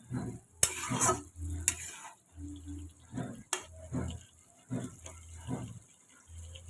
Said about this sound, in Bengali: এই মশলাটা এবার দিয়ে দেবো। দিয়ে ভালো করে মিক্স করে নেব